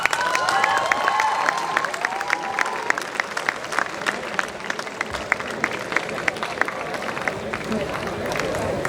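An awards ceremony audience applauds and cheers, with dense clapping, a few whoops and whistles near the start, and a steady crowd roar underneath.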